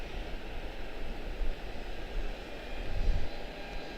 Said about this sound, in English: Turning in out of spec there is Phoenix A321neo coming across the taxiway.